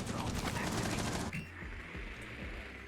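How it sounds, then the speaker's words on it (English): Rapid bursts of gunfire in Rainbow Six Siege crackle in a fast repeated rhythm, then stop abruptly, leaving quieter game ambience and faint clicks. "Why did I hear that gunshot so"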